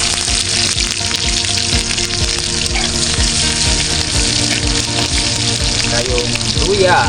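Garlic and onion sizzling in a hot pan, a loud steady crackling fry that carries on without a break, with occasional stirring.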